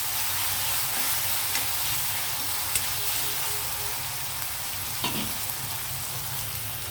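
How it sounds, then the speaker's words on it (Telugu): Ginger garlic paste fries in a pan with a steady, even sizzle, close and continuous, with a few faint stirring clicks and no talking. "ఈ అల్లం వెల్లుల్లి పేస్ట్ కొంచెం పచ్చివాసన పోయేటట్టుగా వేగనిద్దామండి"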